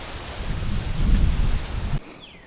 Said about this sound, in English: thunder's getting louder